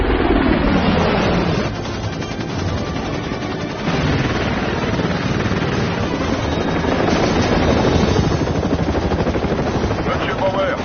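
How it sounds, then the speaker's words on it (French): Army helicopters approach in a continuous loud rotor roar with dense, steady noise that swells slightly toward the end, with no voices over it. "Les hélicos de l'armée sont en train de s'approcher de lui."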